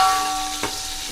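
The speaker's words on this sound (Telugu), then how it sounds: "ఇవన్నీ దోరగా వేగాలండి. చక్కగా బ్రౌన్ కలర్ వచ్చేదాకా బాగా వేగాలి." Onions, green chillies, coriander and curry leaves fry in oil in a pan for a Telugu fish curry, giving a close, continuous hissing sizzle. A brief stirring scrape comes midway, and no one speaks.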